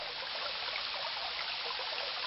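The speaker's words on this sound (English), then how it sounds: "A stream gurgles past the cave as it winds its way to the sea." A stream gurgles steadily past a cave in King's Quest III Redux, a continuous bright rush of flowing water with no pauses, fairly close and even in level throughout.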